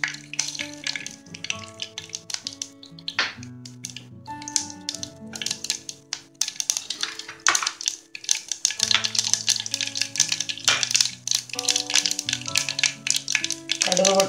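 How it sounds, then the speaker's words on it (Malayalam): Mustard seeds splutter and pop in hot coconut oil in a pan, a rapid irregular crackle of sharp bursts that thickens over time, with soft musical tones in the background. "ഇനി നമുക്ക് ഇതിനകത്തേക്ക് വെളിച്ചെണ്ണ വെച്ച് കൊടുക്കുക. കുറച്ച് കടുക് ഇട്ട് കൊടുക്കുക."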